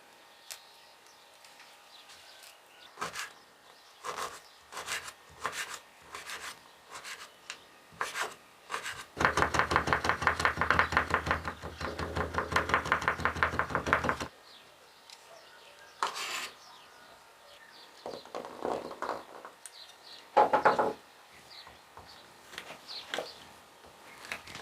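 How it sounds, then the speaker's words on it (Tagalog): Coriander seeds and other spices crushed by hand for a lamb leg marinade: scattered close taps and rubs, then a dense, steady grinding burst lasting several seconds, followed by more sporadic scraping, with no talking. "Una, duduruhin ko lahat ng sangkap, buto ng kulantro."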